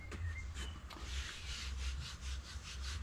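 A hand rubs steadily back and forth over a sprayed exterior wooden furniture surface, a soft rasping swish repeating in even strokes, close and quiet with no talking.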